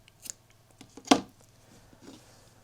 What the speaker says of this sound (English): Snip it off.